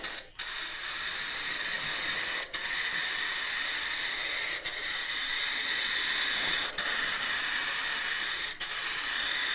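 Steady loud hiss of an aerosol spray paint can coating a car body panel in long end-to-end passes, with brief dips every couple of seconds where the nozzle is released between strokes.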